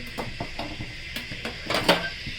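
Potato pieces go into a kadai with oil for a curry, producing a quick run of light knocks and clatters against the metal, close by and fairly loud.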